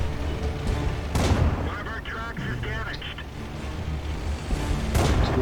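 Tank cannon fire in World of Tanks, with two heavy booming shots, one near the start and one near the end, over a loud, continuous rumble of game sound and someone talking.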